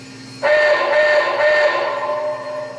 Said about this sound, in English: The reverse signal is S2.